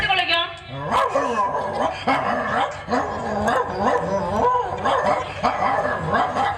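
A performer in a Tamil stage drama imitates a male dog with his voice, producing a rapid run of repeated bark-like yelps that sit close and loud, mixed in with ongoing speech.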